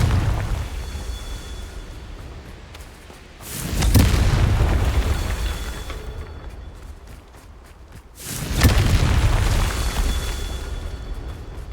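Two heavy booming blasts from the Confringo fire spell in Hogwarts Legacy, each a loud burst that rolls and rumbles for a few seconds before fading, with game ambience between them and no voices.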